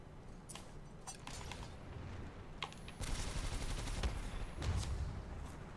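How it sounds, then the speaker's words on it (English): Rapid automatic gunfire bursts from Titanfall 2 online multiplayer, with crackling rounds and a sustained high metallic whine, growing denser and louder midway through a noisy firefight. "Seems like none of those bullets hit him. I guess I was shooting at his feet or something."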